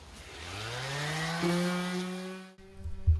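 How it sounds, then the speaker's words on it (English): A power sander whines steadily and rises slightly in pitch while sanding decals on a pop-up camper, then cuts out abruptly, leaving some low clunking handling noise afterward. "I'm just gonna sand along here to remove any edges that are kind of coming off"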